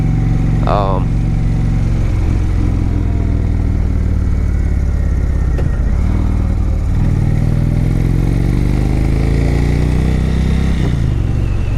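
An Indian Chief Vintage motorcycle rides through corners, its deep engine rumble rising and falling as the throttle rolls off and back on, loud and continuous with wind noise and someone talking over it.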